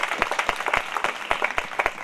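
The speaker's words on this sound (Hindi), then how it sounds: "प्रभु के लिए ताली बजा सकते हैं?" A congregation claps during a Christian wedding sermon, sparse and uneven claps popping out individually in a loose rhythm at moderate distance, fairly quiet overall.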